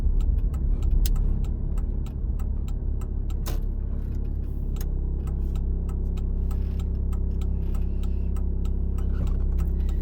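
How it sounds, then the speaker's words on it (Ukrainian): A car's left turn signal ticks in a regular, evenly spaced rhythm over the low steady hum of the engine running inside the cabin, with no voices. "Вмикаємо завчасно лівий поворот."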